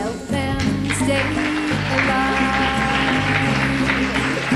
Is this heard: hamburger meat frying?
no